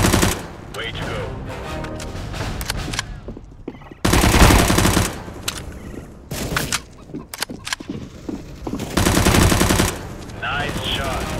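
Automatic rifle fire from Counter-Strike: Global Offensive deathmatch practice against bots comes in loud repeated bursts, separated by short gaps and quieter moments.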